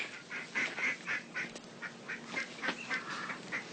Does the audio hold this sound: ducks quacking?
yes